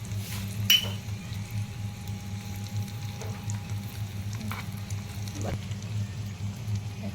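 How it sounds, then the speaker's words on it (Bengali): Chopped onion, green chili and nigella seeds frying in oil in a small pan make a low, steady sizzle with a few faint utensil clicks, close and continuous. "এখন পেঁয়াজ লঙ্কা ভাজা হয়ে গেছে"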